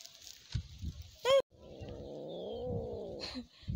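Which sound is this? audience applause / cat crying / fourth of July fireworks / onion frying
cat crying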